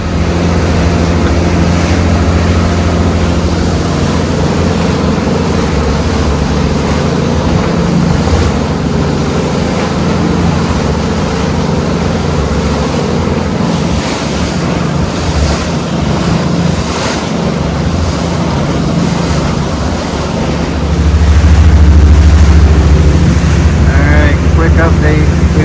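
A boat motor drones steadily on Lake Huron with wind rushing past the microphone, loud and continuous, with a surge in low rumble toward the end.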